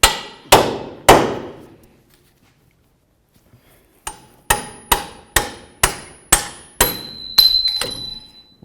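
Sharp metal hammer blows knock at a Ford Crown Victoria lower control arm: three strikes, a pause, then a quick steady run of about eight ringing clangs.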